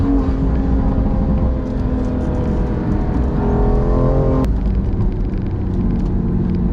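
BMW M2 Competition with the S55 engine accelerating hard, a loud continuous engine roar with rising harmonics that cuts off abruptly partway through, then steady road and engine rumble.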